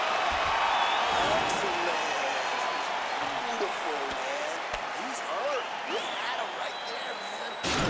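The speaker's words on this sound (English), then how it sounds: "So the crowd voicing its appreciation after that round" A steady, loud crowd roar and cheering fills a UFC 4 fight video game arena for the whole stretch, with a commentator's voice talking over it.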